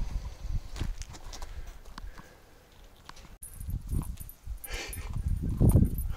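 A dog eats corn, giving irregular, close, dull crunching and chewing bursts that grow louder toward the end, with some shuffling movement between bites.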